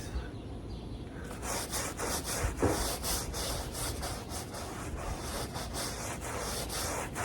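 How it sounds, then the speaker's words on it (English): A brush scrubs the big wheels of a Cadillac XTS in rapid back-and-forth strokes, a close, rhythmic scratchy rubbing that continues steadily throughout. "But with no towel gonna get it, you gonna have to scrub these."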